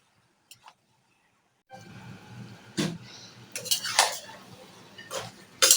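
Beef pieces being stir-fried with tomato and spice paste in a pot for a beef curry, heard as scattered metallic clinks and scrapes of a utensil against the pot over a low background hum, starting after a short silence.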